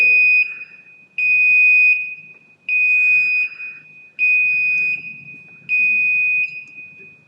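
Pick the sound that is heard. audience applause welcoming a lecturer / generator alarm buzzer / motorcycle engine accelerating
generator alarm buzzer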